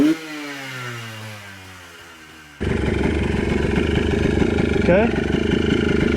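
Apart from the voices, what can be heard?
2004 Yamaha Blaster ATV engine revving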